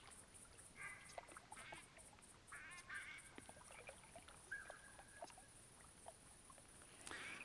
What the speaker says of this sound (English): To me this sounds like a black duck, but it's clearly different.